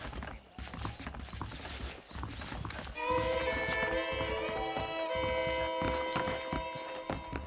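A horse's hooves clop steadily while it is ridden in the video game Red Dead Redemption, with a saddled horse moving through a frontier town. Game music and ambient mechanical sounds come in partway through and play underneath the steady hoofbeats.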